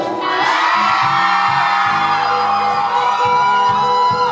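Loud crowd of women cheering with high-pitched screams and whoops, a dense continuous roar of excited voices close by.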